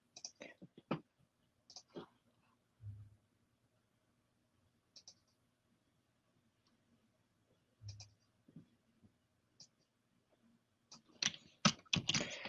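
Sparse clicks of keys being typed on a computer keyboard, coming in short irregular bursts with pauses between, close and fairly quiet, ending in a denser flurry of keystrokes.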